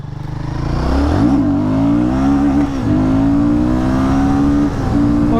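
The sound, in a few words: Royal Enfield Guerrilla 450 motorcycle engine revving, wheelie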